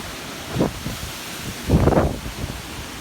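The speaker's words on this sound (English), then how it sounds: "It feels like the wind is like 40 miles per hour." Strong gusts from a tropical storm batter a backyard with trees in Bethpage, New York, roaring into the microphone in two loud blasts over a steady rushing background, with no talk.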